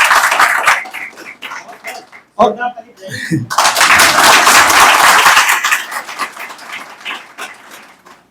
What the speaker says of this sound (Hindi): तो इस बार की ताली आप लोग अपने लिए बजाइए